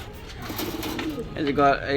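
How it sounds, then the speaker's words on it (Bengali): Pakistani and local pigeons coo softly in low, rolling calls in a pigeon shop in Gallamari, with a voice briefly heard toward the end. "খুব সুন্দর কোয়ালিটির কবুতর"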